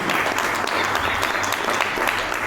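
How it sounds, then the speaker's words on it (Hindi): An audience at a training session gives loud, steady applause, a dense wash of clapping that holds evenly from start to finish. "इनके लिए जोरदार तालियां होनी चाहिए"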